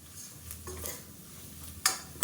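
Masala powder is stirred in a cooking pan for a kulambu curry, giving soft scraping and light sizzling with a couple of sharp utensil clinks near the end, close by and without talk.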